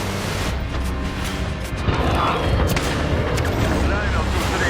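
Heavy airborne gunship cannon fire from a Modern Warfare killstreak, a dense run of booming blasts and rumbling explosions that fills the mix with game noise throughout, growing slightly louder after the first couple of seconds.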